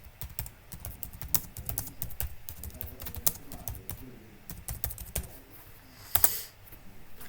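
Rapid typing on a computer keyboard while entering commands in a Linux terminal, a steady run of close, crisp key clicks with a few louder strokes near the end.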